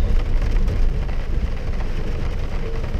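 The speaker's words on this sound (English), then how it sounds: "the rain starts picking up" Rain falls on an autocross course in a wet SCCA event with a 2002 Honda CR-V, a steady broadband patter and hiss, fairly loud and even throughout, with no talking.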